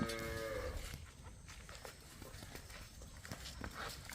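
A single low moo from a Jersey cow on a farm opens the clip, fairly faint, followed by quiet rustling and shuffling outdoor noise.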